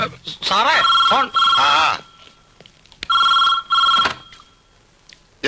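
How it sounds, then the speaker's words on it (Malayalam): A telephone rings in two repeated electronic bursts, loud and close, with people talking before and between the rings in an indoor scene from the Malayalam comedy film Kattile Thadi Thevar. "സാറേ ഫോൺ."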